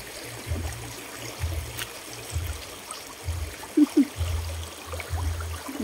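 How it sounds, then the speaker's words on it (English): Water flowing in a creek in the countryside, a soft continuous trickle with low gurgling pulses repeating underneath, steady and close, with no talking. "I'm gonna cross this creek here."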